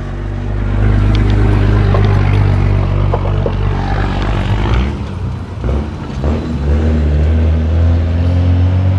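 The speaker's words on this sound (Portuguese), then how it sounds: "Aqui está o motor da Garbosa pronto." Restored Toyota Hilux SR engine idling steadily up close, a continuous low rumble with a slight dip in level midway and no talking.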